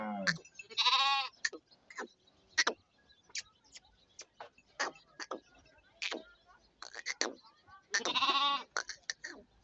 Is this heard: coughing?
no